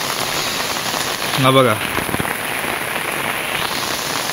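Heavy monsoon rain pours steadily in a Konkan village house yard, a dense continuous hiss, with a brief spoken remark partway through.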